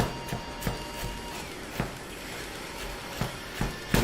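Rough chopping of vegetables on a cutting board, a series of sharp knife knocks at an irregular pace over a steady background hiss.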